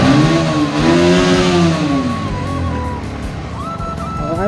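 A Bajaj Pulsar NS 125 motorcycle engine revs up and down loudly at close range, its pitch rising and falling through a couple of throttle blips and then settling into a steady idle, with no voices.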